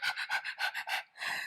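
A person imitates a dog during a kids yoga downward-facing dog pose, giving about seven breathy, rhythmic barks and pants, close and fairly soft.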